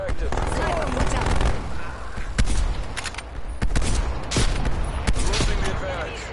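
Sentry turret gunfire in a Call of Duty-style shooter, with sustained rattling bursts and sharp individual shots, loud and close, under a busy mix of game sounds and voices.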